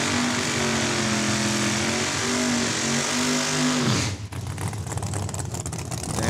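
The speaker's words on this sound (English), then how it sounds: "Bob Diesel out of Pasqua Lake, running the Dragster." A dragster at a drag strip, Saskatchewan International Raceway in Saskatoon, roars loudly and steadily up close with rising engine tones, then cuts abruptly to a rougher, broken crackle and lower rumble partway through.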